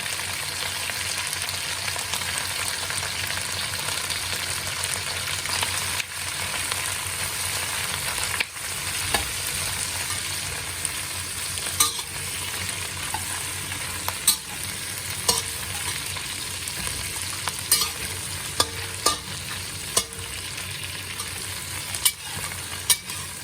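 River prawns fry in a pan with browned garlic and ginger for yee mee noodles, a continuous close sizzle broken by scattered sharp spatula clicks and taps against the pan.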